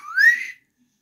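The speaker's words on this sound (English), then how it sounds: "Suddenly, out came a real whistle." A single short rising whistle from a person, clear and fairly loud, lasting about half a second and then giving way to silence.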